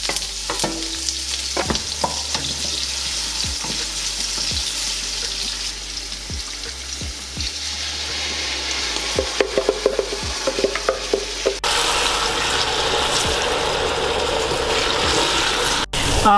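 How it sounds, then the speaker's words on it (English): Tomatoes sizzle and spit in hot oil in a pot, with scraping stirs and clinks, the frying growing louder and denser partway through. "I always like to coat the bottom of my pan when I'm frying my tomatoes."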